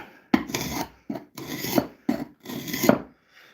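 Sharp gouge shaving walnut for a wooden spoon: four rasping, scraping strokes of varying length with brief pauses between, close and fairly loud, no talk.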